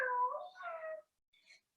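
A family yoga instructor imitates a cat's meow during cat pose, a single drawn-out, wavering voiced meow lasting about a second, clear and close in a quiet room, followed by a faint breathy sound.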